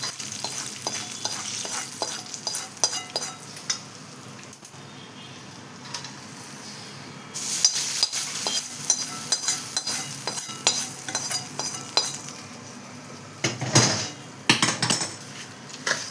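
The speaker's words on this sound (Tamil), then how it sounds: "நம்ம போட்டு இப்போ தாளிப்பை போட்டு சாதத்தை கலந்துடலாம்." Tempering being mixed into cooked rice for amla rice in a pot, with a soft sizzle, repeated scraping and clinks of a spoon against the metal vessel, some louder stirring bursts midway.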